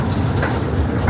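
Amusement park train ride at Blackpool Pleasure Beach, a steady low rumble and rolling clatter close by, continuous throughout with no talk.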